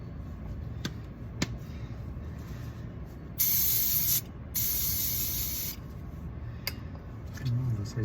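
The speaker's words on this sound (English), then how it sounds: "So I just ran out of brake clean" Aerosol can of brake cleaner spraying onto front brakes of a 2006 Mitsubishi Eclipse, two close hissing bursts of about a second each, the second longer, over low garage background rumble.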